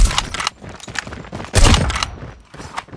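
Sniper rifle shots in a mobile shooter game played on an iPad, loud cracking blasts separated by brief pauses, with mechanical clatter between the shots.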